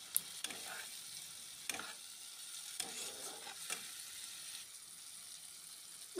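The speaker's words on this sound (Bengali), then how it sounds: "ভালো করে কষিয়ে নেব" Spice paste with ginger and garlic sautés in a pan, a quiet steady sizzle punctuated by several brief scraping stirs of a spatula.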